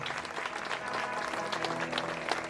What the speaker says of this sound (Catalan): Un aplaudiment, bon Antoni